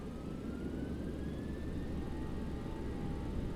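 Boeing 737 engines spool toward takeoff thrust in a LevelUp flight simulator, producing a steady low roar with a faint rising whine, quiet and continuous.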